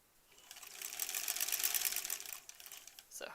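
A sewing machine stitches a granny squares quilt, a close, steady whirring run of rapid needle clatter that swells and fades, then a brief final burst.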